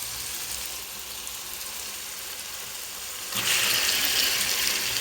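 Chicken added to a hot frying pan of fried ginger-garlic paste for chicken curry, with a steady sizzle that jumps suddenly louder and brighter as the meat goes in.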